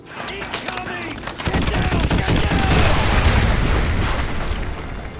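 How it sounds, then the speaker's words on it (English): Artillery strike in Call of Duty Modern Warfare 2: after a quiet start with a few sharp cracks, a loud, continuous rumble of heavy explosions and booming impacts builds and holds, dense and close, with scattered bursts layered on top. "Fire mission. Danger close. So, incoming!"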